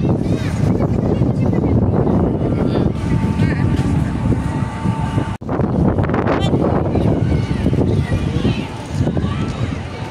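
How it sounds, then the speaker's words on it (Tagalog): Strong wind buffets the microphone at an outdoor rooftop viewing deck at a Manila mall. It is a loud, continuous rumbling roar with a brief dropout midway, and voices are faintly present. "Ang lakas ng hangin."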